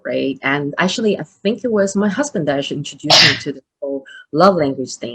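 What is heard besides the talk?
sneeze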